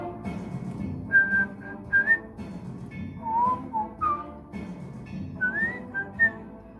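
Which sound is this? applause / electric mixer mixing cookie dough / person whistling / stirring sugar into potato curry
person whistling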